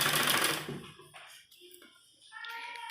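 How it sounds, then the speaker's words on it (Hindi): A sewing machine runs a brisk, steady stitch along the folded edges of a net baby frock, loud at first, then easing into quieter, broken bursts before picking up again near the end. "इस तरह से किनारे किनारे पर सिलाई लगाएंगे।"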